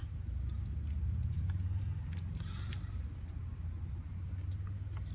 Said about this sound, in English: I like to take a razor knife, something like an X-Acto blade, a wide one, and I just do this right here. Right, just scrape the old stuff off